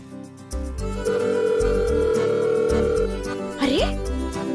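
A phone call rings out unanswered, its steady ringing tone running for several seconds under music and background sound.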